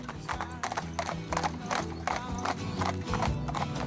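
Hooves of a four-horse carriage driving team clop in quick, overlapping rhythm close by, with a whinny cutting through, and a voice speaks faintly underneath.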